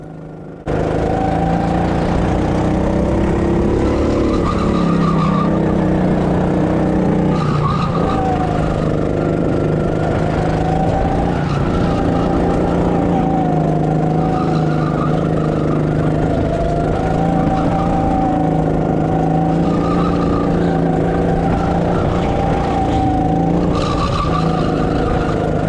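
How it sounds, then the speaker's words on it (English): Rental go-kart tyres squeal continuously through a racing lap at an indoor karting track, a loud, steady whine layered over droning kart engines with rising and falling pitch, no talking. "see how crazy these tyres sound, and how much they're squealing"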